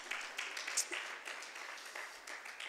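A church congregation claps during a Wednesday evening service, steady applause from a crowd at moderate distance, fairly soft and even throughout.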